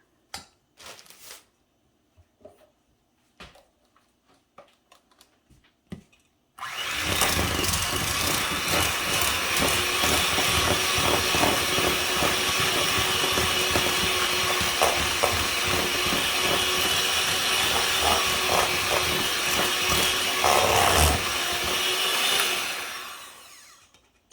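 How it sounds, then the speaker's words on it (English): A hand mixer blends buffalo chicken dip, a loud steady motor whir that starts abruptly after some quiet clatter and runs for most of the stretch before winding down. "I'm going to get my hand mixer and I'm going to blend this together now so that it's creamy and smooth"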